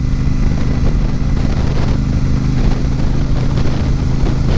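A Royal Enfield Super Meteor 650 motorcycle engine drones loud and steady while riding at road speed, a continuous close-up rumble with no speech.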